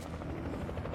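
A helicopter in the video game Alan Wake thrums loud and steady, its dense rotor beat and engine roar filling the whole moment without a break.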